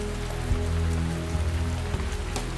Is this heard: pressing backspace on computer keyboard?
no